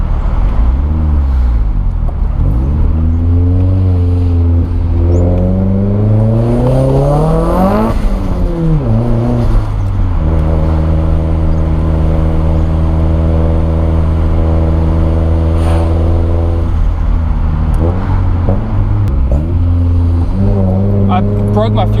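A race car engine under hard acceleration in high boost mode, revving up through the gears with rising, falling and holding pitch, loud and close for the whole stretch, with a voice heard over it at times.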